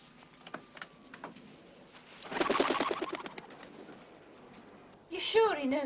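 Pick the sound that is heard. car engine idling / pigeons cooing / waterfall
pigeons cooing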